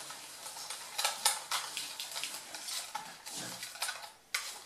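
Mayonnaise is stirred briskly in a bowl, producing repeated wet scraping strokes and spoon clinks in an uneven rhythm, close and fairly loud, with no speech.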